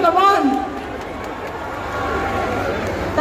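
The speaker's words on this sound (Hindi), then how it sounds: "खुद के लिए तालियां मार लो कमॉन" A crowd at an evening event at the Charminar claps in a broad, diffuse patter that follows a brief voice, with crowd chatter mixed in.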